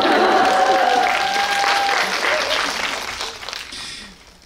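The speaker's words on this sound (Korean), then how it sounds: "네, 박수 부탁드릴게요" Audience at a film screening Q&A for The Moon claps loudly, a dense burst of applause that tapers off over a few seconds.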